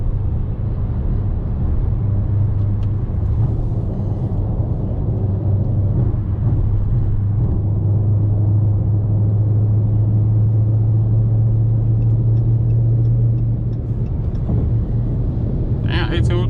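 Supercharged 2020 Dodge Charger Hellcat Widebody engine driving, a steady deep low rumble that holds and slowly rises in pitch, heard from inside the car beneath ongoing talk.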